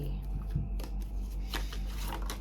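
Tarot cards are shuffled close up in short riffling bursts over a steady low hum, with someone speaking in the background.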